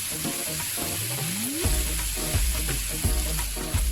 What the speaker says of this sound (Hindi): बीच वाला चिकन सही तरह से नहीं पका है तो उसको मैं फिर से पलटाकर पकाऊंगी